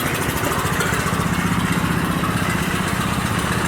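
A car engine runs during a cold start while the vehicle is backed up, a loud, close, steady rumbling idle with a rapid regular pulsing throughout and no talk.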